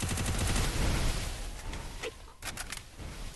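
Gunfire in Free Fire, a rapid burst of shots that fades, followed by a few separate sharp cracks, clear and moderately loud with no talk over it.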